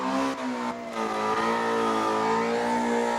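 A car engine revs hard and steadily at high pitch during a burnout contest in New Smyrna, holding a loud sustained roar with a brief dip near the start.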